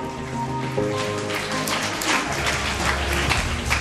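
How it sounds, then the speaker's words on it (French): Applause for a sixth-grade school class at a morning devotion assembly, a soft, continuous spatter of many hands heard at a distance over a low hum, with no clear talk. "Applaudissez chaudement la 6e année A"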